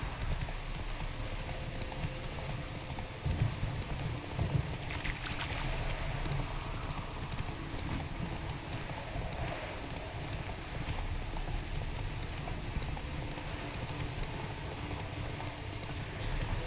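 The horse Roach gallops in The Witcher 3, a continuous rhythmic clip-clop of hooves running steadily with a rain-like wash of ambience throughout.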